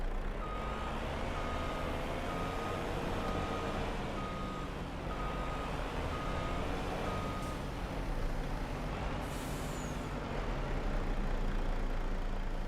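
A truck in Farming Simulator 25 beeps as it backs up, sounding an even string of warning tones over a steady low engine rumble.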